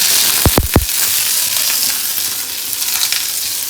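Ginger and garlic frying in a pan as onion goes in, a loud close sizzle with a few sharp stirring scrapes near the start, then a steady crackling fry with no talk.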